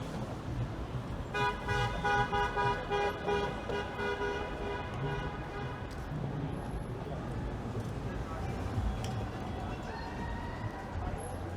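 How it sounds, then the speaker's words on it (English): Repeated car horn toots on a busy Toronto street on New Year's, mixed with traffic and passing vehicles, with people talking nearby throughout. "As if the World Cup didn't bring us enough honking."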